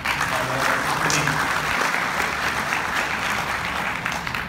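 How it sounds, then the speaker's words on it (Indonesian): Audience applause at a seminar on exporting Musang King durian, dense steady clapping from a roomful of people filling the whole stretch at even loudness and then easing slightly at the end, with no voices over it. "boleh tak tuan orang bagi satu lagi tepukan pada ini"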